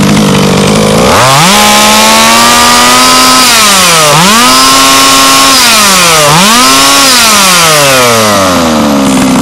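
A small two-stroke gas engine on an HPI Racing Baja 5B RC car revs loudly and steadily, pitch climbing high then dipping and rising again in repeated surges, harsh and buzzy throughout.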